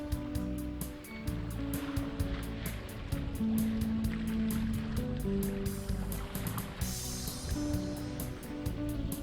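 A sailboat hull punches through ocean swells, a steady low wash and rumble of water with rhythmic surges, plus repeated ticking or clanking high up.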